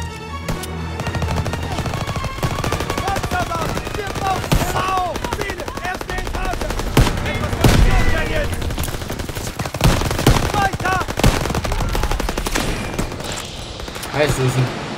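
Sustained automatic weapon fire and repeated gunshots from the World War II shooter game Call of Duty WW2 rattle loudly through the whole stretch, with brief bursts and sharper single cracks layered over a dense battle din and occasional voices.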